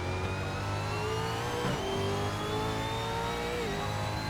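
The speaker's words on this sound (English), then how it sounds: "Hard onto the limiter, down through the gears." A V8 Supercar in the Assetto Corsa racing game at Queensland Raceway holds its engine hard on the rev limiter, then drops through the gears with steady, loud, continuous engine tone and pitch steps as it downshifts.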